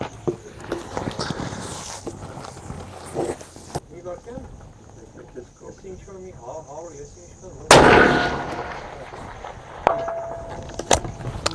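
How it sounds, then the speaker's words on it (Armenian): A Taurus Expedition .308 Win rifle fired at a 500 m target, giving one loud, sharp report with a ringing decay partway through, with clanks, handling noise and voices around it at the range. "կրակելու եմ 500 մետրի կամարի տակի կարմիր թիրախի"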